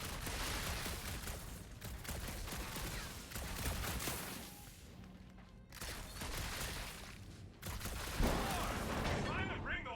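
Blaster fire crackles through a Guardians of the Galaxy game battle, dense bursts of shots packed into a busy, loud mix that drops out briefly twice before surging back.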